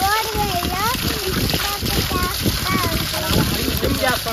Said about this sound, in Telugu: ఇది మా బోర్వేల్